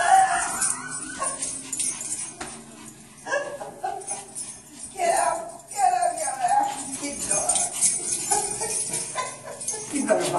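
A big dog yips, whimpers and lets out short barks and whines in a room, the sounds coming in bursts mixed with people talking nearby.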